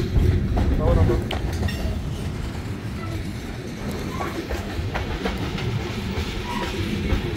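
A freight train made up of Burlington Northern cars rolls past close by, with continuous loud rumbling and rhythmic clickety-clack of wheels, and a voice speaks under the noise.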